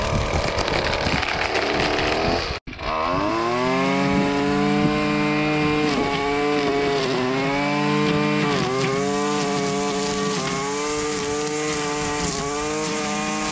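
A Husqvarna 128LD gas-powered string trimmer engine starts up after a brief gap and runs loud and close, its buzzing two-stroke whine rising and dipping with throttle changes, with no talking.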